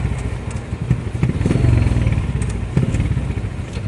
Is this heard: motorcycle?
yes